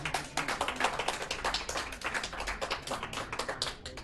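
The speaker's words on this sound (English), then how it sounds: "Let's give a round of applause for yourselves." An audience at a live podcast recording claps in a dense, continuous burst of applause that holds for several seconds at moderate loudness, with no talk over it.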